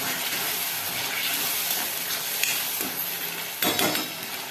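Large raw potato slices being stirred in a hot pan for a potato bhaji, a continuous close sizzle with scraping, clattering stirs and a sharper burst near the end.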